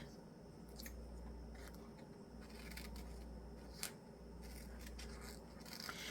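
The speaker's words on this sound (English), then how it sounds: "So I'm gonna cut these pieces out on this washi tape" Scissors snipping through pieces of washi tape, faint quiet cuts and small crinkles at irregular intervals over a low steady hum.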